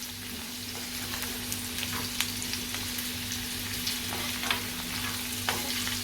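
Fresh kolim shrimp and plenty of garlic sauté in oil with a continuous near sizzle, broken by several quick spatula stirs and scrapes. No one talks.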